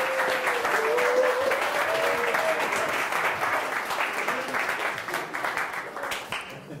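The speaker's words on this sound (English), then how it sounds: "So give a round of applause." An audience at a demo day for student-built apps applauds a presenting team: a dense, steady wash of many clapping hands that holds for several seconds, then thins toward the end, with a faint voice tone underneath early on.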